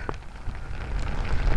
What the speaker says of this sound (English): It's just drizzling, that's all.